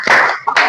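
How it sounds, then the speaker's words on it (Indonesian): A class doing the rhythmic "tepuk oke" group clap in a school lesson, a short loud burst of two or three sharp claps close by. "Kita kasih tepuk oke buat kelompok visual."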